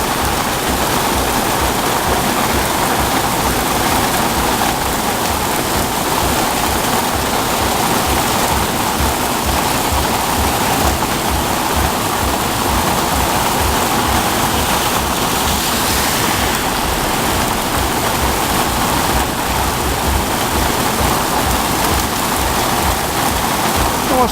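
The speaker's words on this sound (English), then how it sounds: "It's bloody raining, mate." Heavy rain pours steadily on a street in Pattaya during the low season, a dense continuous wash of drops hitting surfaces that stays loud and unbroken throughout, with no voices over it.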